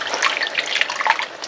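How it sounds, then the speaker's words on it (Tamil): Hot water poured into a tamarind mixture for sundakkai vatha kuzhambu, a steady close splashing trickle with bright liquid texture, no talking. "இதில் இன்னும் கொஞ்சம் ஹாட் வாட்டர் ஊற்றி இன்னும் கொஞ்சம் கரைச்சி ஊற்றப்போகிறேன்"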